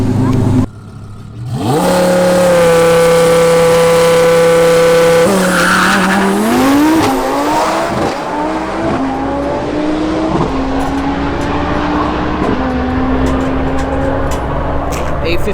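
An Audi R8 built by Stealth with an Alpha 12 package, making about 1390 wheel horsepower on a stock motor, launches on a drag strip. It is loud and close, and the engine climbs through several gear changes, each with a brief dip in pitch, before sustaining its high-rpm roar.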